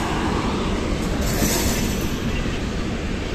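Doon Express train rolling into platform 5 at Shahganj Junction, a steady loud rumble of wheels and rail noise with faint squeal, continuous and close throughout.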